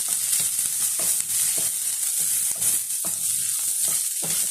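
Slit green chilies fry in a pan as a Kerala breakfast of soft puri and potato bhaji comes together: a steady close hiss with recurring scrape-and-stir clicks and knocks, no voices.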